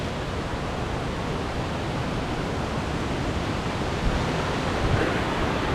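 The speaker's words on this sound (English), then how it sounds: "You'll start to hear the falls now." Waterfall in North Wales, a steady, dense rush of falling water filling the space evenly and continuously, fairly loud with no breaks and no voices.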